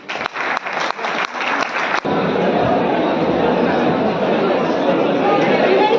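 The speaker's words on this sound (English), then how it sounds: "Can we have a big round of applause for Anuradha?" Audience at a college engineering club inauguration session applauding, starting with a few scattered separate claps before swelling into loud continuous clapping mixed with crowd chatter.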